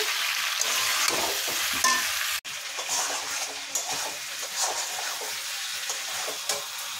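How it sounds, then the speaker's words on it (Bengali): Meat and potato are stir-fried with spices in a pan, giving a steady sizzle with scraping stirs and a sharp clank partway through, close and fairly loud. "আলুটা দিয়ে মাংস ভালো করে কষে নিচ্ছি"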